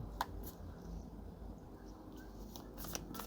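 Oracle cards being shuffled in a Thai tarot reading, giving soft, quiet papery riffling with a few light flicks and taps spread over a few seconds, no voices.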